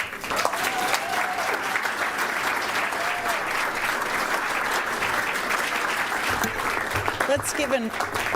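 Sustained applause from an audience at a journalism hall of fame ceremony honoring inductees, a dense steady patter of many hands clapping throughout at even loudness with no talk over it.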